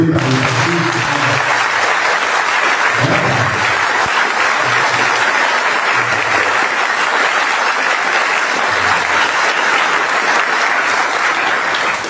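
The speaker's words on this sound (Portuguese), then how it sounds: "já salvo de palmas para ele" A church congregation applauds the parish priest at his canonical installation in São José parish, Pedrinhas, Sergipe: steady, dense clapping fills the whole stretch at full loudness, with a few low voice-like murmurs early on.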